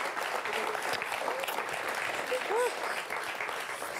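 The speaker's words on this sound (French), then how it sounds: "Regarde là, tout le monde t'applaudit." A studio audience on a French television show applauds steadily throughout, a dense wash of clapping with a faint murmur of voices underneath.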